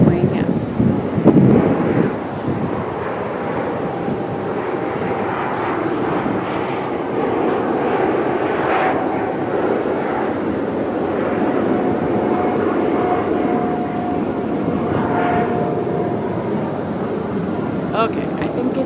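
An airplane passes overhead, a broad steady engine roar that fills the whole stretch, loud and continuous with wind-like rumble.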